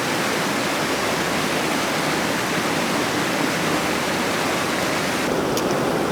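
Waterfall roaring steadily in bad weather, a loud, dense, unbroken rush of falling water that fills the whole clip with no voices.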